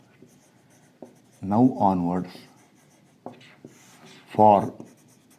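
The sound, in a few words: writing on a board during a lecture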